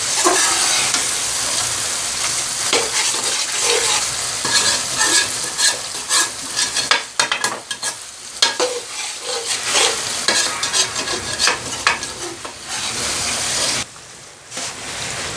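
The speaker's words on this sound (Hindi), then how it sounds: "अब हम चिकन और मलाई को भून लेंगे।" Chicken and cream frying in a karahi while being stirred, loud close sizzling with repeated spoon scrapes and clatter against the metal, continuous with a short lull near the end.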